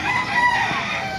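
A rooster crows at a busy poultry market in Baliuag, Bulacan, one drawn-out call rising over steady crowd and market bustle close by.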